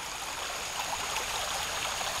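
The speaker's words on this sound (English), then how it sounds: "Bedrock exposure, water going over a nick point into a pool" Creek water pouring over a bedrock nick point into a pool in a forested Piedmont headwater stream, a steady broadband rushing flow, close and continuous with no talk.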